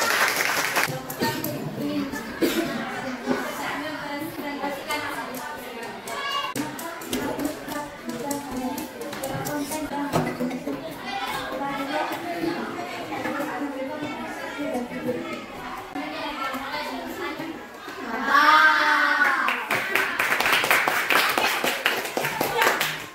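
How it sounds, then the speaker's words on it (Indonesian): Classroom students clap their hands together in a lively burst of scattered and rhythmic clapping, mixed with chatter and children's voices, which swells louder toward the end. "kita tepuk tangan untuk mereka"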